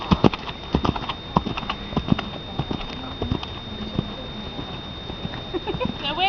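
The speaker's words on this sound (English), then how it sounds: "I'm on a running horse." A horse's hooves clip-clop in a quick, steady rhythm on firm ground while it runs, with a faint voice briefly speaking near the end over a constant background hum.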